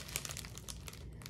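A plastic bag holding drill bits crinkles as it is handled, giving a close, busy run of rustling crackles and small crisp bursts throughout.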